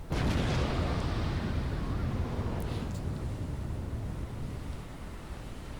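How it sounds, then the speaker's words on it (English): A battleship turret fires in the naval video game Battleship Command: one heavy, booming blast followed by a long rumbling decay that fades over several seconds. "Fire turret A."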